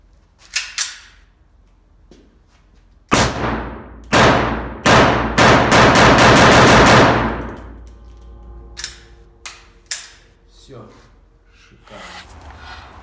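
An automatic weapon fires loud, close bursts of rapid shots, the longest rattling for several seconds, followed by scattered single bangs and metallic clanks.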